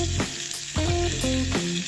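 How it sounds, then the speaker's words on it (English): Flat iron steak searing in hot oil in a pan gives a loud, steady sizzle with crackling bursts, alone with no talk. "Look at that sizzle."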